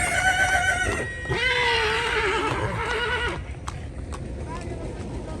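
A horse whinnies loudly nearby amid a busy outdoor crowd at the Maghi Mela horse fair in Sri Muktsar Sahib, with hoof clops and people talking in the background.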